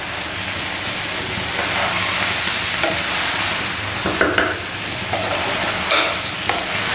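Vegetables cooking in a pan hiss with a steady loud sizzle as they are stirred, with a few soft spoon knocks and scrapes, no talking.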